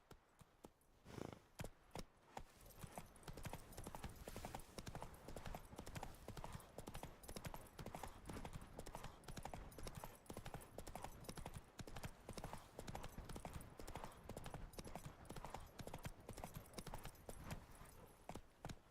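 Horse hooves clip-clop steadily and continuously at a lively gallop-like rhythm in The Witcher 3 video game, loud and close with dense game ambience.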